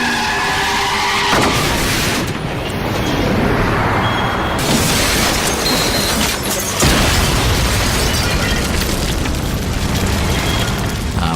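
A cannon-launched stunt vehicle crashes and flips onto its roof, a loud sustained roar of scraping, skidding metal and booming impacts that shifts abruptly several times, dense and close with no talk.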